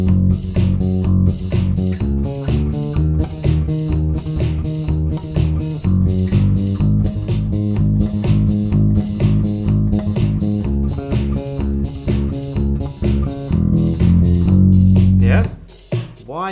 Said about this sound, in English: We are totally going to start adding some more of those constant 16ths with our next bass line.